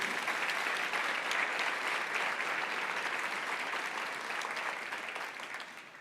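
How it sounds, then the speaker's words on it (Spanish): Dense, steady applause from a church congregation during a Spanish-language worship service, loud and continuous throughout with no speech, easing slightly toward the end. "Dale un aplauso a Dios con todo tu corazón."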